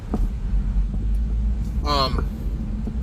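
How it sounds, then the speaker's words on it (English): Steady low rumble of heavy road traffic passing nearby, constant and fairly loud, with a brief higher engine or horn-like tone rising partway through. "This is the first time I've seen this much traffic in a long time."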